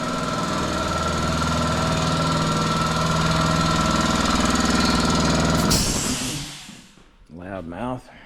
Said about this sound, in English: there's the air compressor